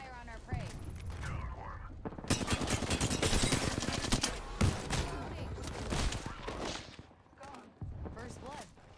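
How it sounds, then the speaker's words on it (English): Video-game gunfire crackles in dense automatic bursts and scattered loud single shots through most of the stretch, mixed with mechanical clatter and a voice talking over parts of it. "Opening fire on our prey."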